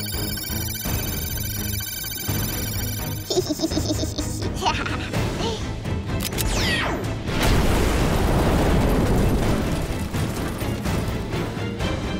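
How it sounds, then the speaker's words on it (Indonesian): A cannon fires and strikes a doll figure in an animated story, heard as a sharp crash and boom followed by a dense, loud rumbling burst of debris and noise, with busy synthetic effects and music beneath. "Meriam menghantam Baby Doll, membuat gaunnya yang dulu indah sekarang hangus dan compang-camping"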